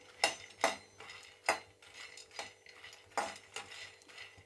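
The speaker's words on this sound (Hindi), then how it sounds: "इस तरह से देखिए मखाने भून लेते हैं हम।" Fox nuts (makhana) being dry-roasted and stirred in a pan, giving a series of sharp scraping and rattling strokes at an irregular pace, close and fairly quiet, with no talking.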